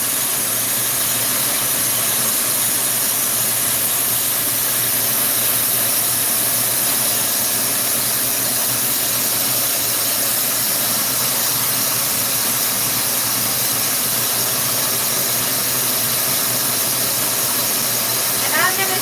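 A torch roars steadily as it heats a glass pipe for shaping the mouthpiece section, a broad continuous hiss and rumble holding at an even level throughout.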